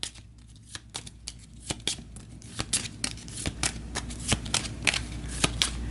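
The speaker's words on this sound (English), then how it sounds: "let's give the turn order deck a shuffle." A deck of turn order cards for the board game Astro Knights is riffle shuffled by hand, a close series of crisp rapid card snaps and flutters repeating in quick bursts.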